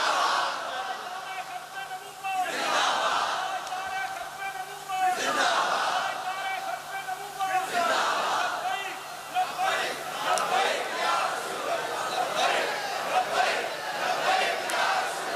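A large gathering at a religious Urdu-Punjabi sermon chants a devotional slogan in unison, rising in loud, repeated waves of voices that fill the space, with a leader's call heard among them.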